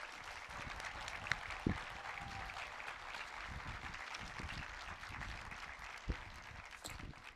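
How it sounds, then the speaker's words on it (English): A graduation ceremony audience applauds the class of 2021, a faint, distant patter of clapping spread through a large room, with a few sharper isolated claps standing out above the soft, even wash. "So let's give the whole class of 2021 a round of applause."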